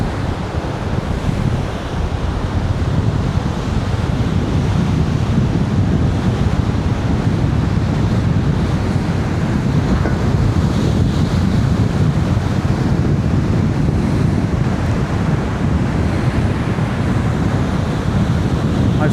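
A rough sea breaks by Blackpool South Pier, with loud, continuous surf and wind gusts rushing over the microphone for nearly twenty seconds, with no speech heard.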